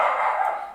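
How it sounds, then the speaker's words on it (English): Dogs bark in a continuous, loud burst of overlapping yaps, close by and steady, with no talking over them. "And you can hear the dogs going off now."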